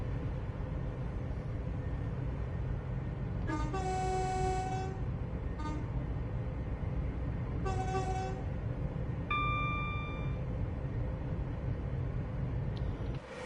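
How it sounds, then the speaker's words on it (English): Two-tone train horn sounds in Train Sim World 5 on a UK line toward Euston: two short blasts, then a longer higher-pitched blast, all over a steady, loud engine and rail rumble. "give him a blast on the horn then"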